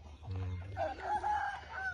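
A fighting cock crows once nearby, a drawn-out, wavering call following a low rumble, fairly close and clear with no talking.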